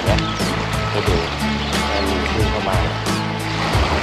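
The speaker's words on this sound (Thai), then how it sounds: "มันมีคลื่นด้วยนะครับมีคลื่นด้วยเห็นไหมให้ดู" Small waves wash steadily onto a beach shore, making a continuous close rush of surf with repeated soft breaking swells.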